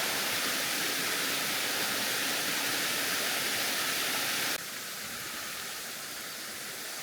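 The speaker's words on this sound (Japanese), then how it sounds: "直爆じゃないんで、滝の音はかなり静かです。" A gentle waterfall at a remote mountain hot spring in the backcountry of Gifu, Japan, where the water does not drop straight down, gives a steady, hissing rush with no voices. Partway through, the sound drops to a softer level.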